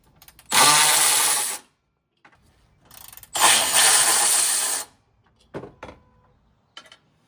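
A power tool backs out the 12 mm bolts holding the horns on a 6th-gen Toyota 4Runner, firing two loud, close bursts of mechanical whirring and rattling with a few short clicks and taps between them.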